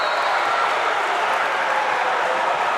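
Basketball arena crowd roaring after a steal and slam dunk in a Grand Oaks Grizzlies game against the Oak Ridge War Eagles, a dense, steady wash of cheering and clapping at full volume throughout.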